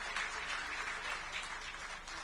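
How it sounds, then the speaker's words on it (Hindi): Faint, distant applause from an audience at a district public dialogue meeting in Raipur, a soft continuous wash of many hands clapping for about two seconds. "पर मैं चाहूंगा एक बार जोरदार तालियां"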